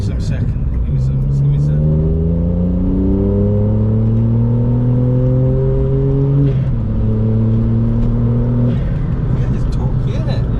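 A VW Up GTI with a 155 bhp engine accelerating hard from inside the cabin, engine note climbing through a gear, dipping briefly at a shift, then rising again, loud and continuous.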